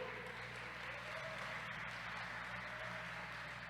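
A church congregation applauds, a faint, steady wash of many hands clapping together, heard from a distance.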